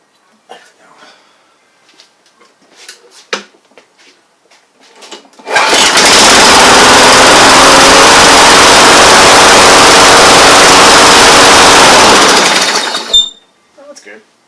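A small Tecumseh gas engine with a replaced carburetor roars loudly at steady high revs for several seconds, then cuts off; faint voices and handling noises before and after.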